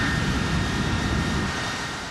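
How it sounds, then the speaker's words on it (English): B-52 bomber engines give a steady, dense roar that fills the short stretch and slowly eases off toward the end, with no voices. "B-52-Bomber greifen Bagdad an"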